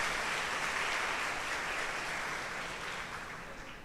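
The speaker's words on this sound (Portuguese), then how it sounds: "dá mais uma salva de palmas para Jesus" A church congregation applauds during a Holy Thursday Mass of the Lord's Supper, with dense, steady clapping that fills the space and fades slightly toward the end.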